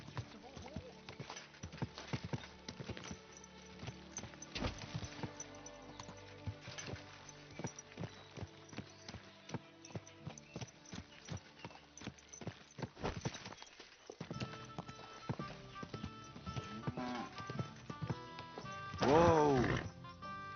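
Horse hooves clip-clop at a walking pace in Kingdom Come: Deliverance II, mixed with game ambience, other background sounds and voices, with a louder, busier burst near the end.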